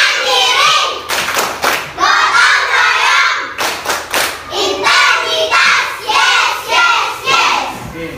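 An elementary classroom performs the PPK clapping chant, bursts of rhythmic hand claps and thumps in patterned groups, loud and close, separated by short pauses, with children's voices shouting along.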